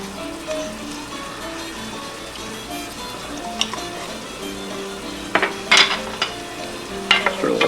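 Onions, garlic, salt and pepper frying in olive oil in a pan, a steady close sizzle broken by several louder scraping stirs toward the end.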